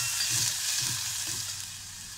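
Onions and green chilies fry in oil, giving a close, bright, steady sizzle with soft stirring thumps every half second or so, and no talking.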